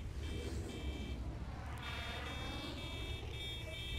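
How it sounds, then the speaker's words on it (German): Car horns honking repeatedly in GTA V Online during a PC race, several overlapping electronic horn tones sounding in bursts over a steady engine rumble. "Wir hupen um die Wette."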